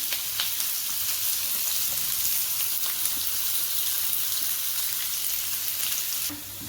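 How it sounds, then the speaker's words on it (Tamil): Onions fry in hot oil in a home kitchen, a dense, steady sizzle heard up close throughout, easing slightly at the very end. "எண்ணெய் ஊற்றிக்கிட்டு வணக்கலாம். எண்ணெய் சூடாகிடுச்சுங்க. வெங்காயம்"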